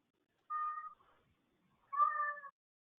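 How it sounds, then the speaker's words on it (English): A pet cat meows twice during an online webinar, two distinct drawn-out calls about a second apart, close and fairly quiet with silence between them. "My cat is participating in this webinar perhaps more than he should be."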